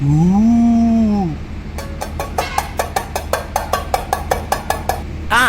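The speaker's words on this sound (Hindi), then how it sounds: "बर्तन ठोको मित्रों" Pots and pans are banged in a Hindi comedy cartoon, a rapid run of sharp metallic clangs in steady rhythm following a drawn-out vocal cry.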